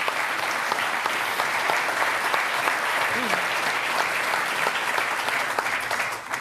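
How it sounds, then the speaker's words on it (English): Audience applause at a St. Gallen Symposium session fills the room, steady and dense throughout with no break. "That deserves an applause, does it not?"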